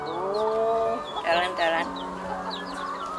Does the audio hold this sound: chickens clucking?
yes